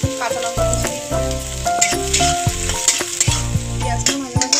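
Chopped onion and green chili fry in a pan with a steady, close sizzle and occasional stirring, while background music plays throughout.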